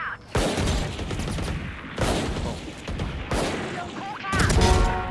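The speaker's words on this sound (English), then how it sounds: "Placing swarm grenade. Swarm grenade out." A swarm grenade in a tactical shooter game bursts in a series of loud explosive blasts with crackling debris, several heavy hits in close succession under dense combat noise.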